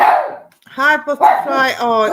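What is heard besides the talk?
dog barking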